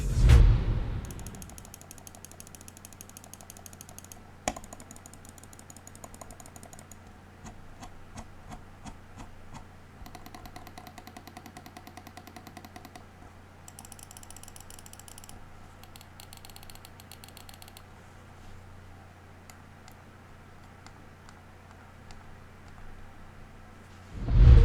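An Endgame Gear XM1 gaming mouse is clicked and its scroll wheel is rolled close to the mic. Soft ratcheting wheel notches and crisp clicks come in separate runs over a quiet background.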